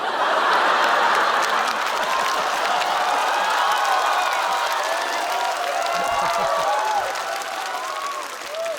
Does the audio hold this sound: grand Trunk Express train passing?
no